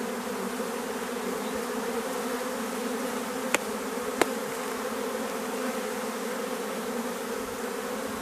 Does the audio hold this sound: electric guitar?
no